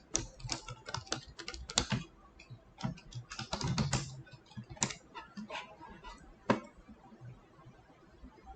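Keys clack on a computer keyboard as a password is entered, uneven bursts of close, crisp taps with short pauses and a few sharper strokes, trailing off near the end.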